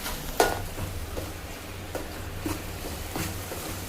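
Ginger garlic paste is stirred into a frying curry of ridge gourd and egg over a medium gas flame. Soft sizzling runs throughout, with a few light clinks of a spoon against the pan.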